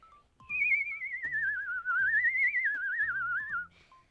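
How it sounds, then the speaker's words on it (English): A single clear whistle warbles rapidly between notes, trilling up and down over a few seconds, close and fairly loud against a quiet background. "I've learned how to do that with whistling"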